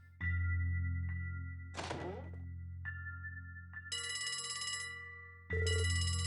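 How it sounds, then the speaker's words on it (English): A telephone rings in Trails from Zero, loud repeated electronic bell trills in two separate bursts over a steady low hum, with a short thunk and brief tones between them and no talking. "A phone call."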